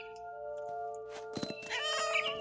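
A cat meows in the video game What Remains of Edith Finch, a few short cries near the end over steady sustained background music tones.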